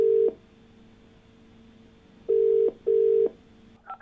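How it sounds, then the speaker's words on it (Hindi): A telephone line tone plays while a call-in TV show connects to a caller: one long tone, then two more steady evenly spaced tones over a faint line hiss, ending in a brief blip. "आइए बात करते हैं अपने अगले कॉलर से, परमिंदर जी से, जो कि महाराष्ट्र के रहने वाले हैं।"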